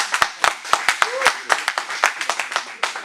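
Scattered hand clapping from an audience at a formal speech event in Lubumbashi, a sparse, irregular patter of distinct claps from a few people, fairly close, without a full ovation.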